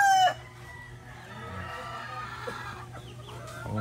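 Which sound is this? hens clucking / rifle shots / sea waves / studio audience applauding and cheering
hens clucking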